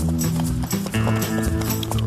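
Donkey hooves clip-clopping along a mountain path, a quick run of close, loud hoof strikes over steady background sound.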